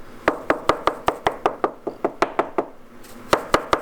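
A series of firm, evenly spaced knocks on a solid welded car body panel, about fifteen dull raps close up with a brief pause partway through.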